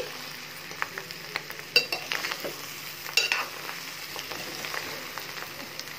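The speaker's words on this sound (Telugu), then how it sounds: "ఇది హైలో ఉంచుకొని బాగా ఇలా కలుపుతూ ఉండాలండి." Fish eggs frying on high heat while being stirred, a continuous moderate sizzle with frequent spatula scrapes and clinks against the pan, close, with no speech.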